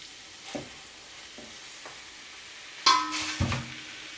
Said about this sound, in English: Now I'm gonna add the mince. 1 kg of mince.